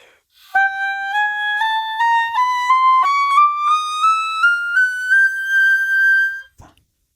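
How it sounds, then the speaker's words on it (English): An oboe climbs slowly through a run of very high, pure, whistle-like notes, each held briefly in a steady stepwise rise, clear and close with no talking. "And then an oboe can go quite high"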